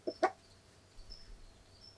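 A laying hen named Sage gives two quick, sharp clucks close by, followed by quiet, faint background.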